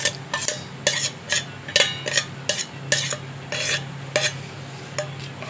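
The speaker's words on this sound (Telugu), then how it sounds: "ఇవన్నీ ఇలాగ మంచిగా కలుపుకోవాలి" Repeated scraping strokes of a spoon stirring a thick veld grape stem pickle mixture in a bowl, steady rhythm, close up, with a low hum underneath and no talking.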